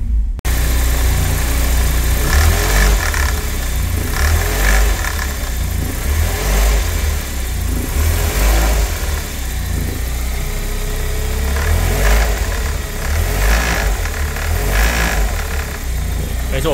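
An old used car engine idles cold at around 1000 rpm with a worn tensioner, giving a constant rumbling drone with a repetitive rattling clatter and a brief light rev, while a person talks over it.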